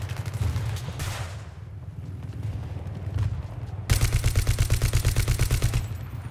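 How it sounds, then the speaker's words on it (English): Video game Battlefield 3 gunfire with sniper rifles: dense, rapid automatic bursts and sharp cracks, then a loud, steady rattling stream of fire in the second half, close and continuous. "Somebody firing sniper rifles at me."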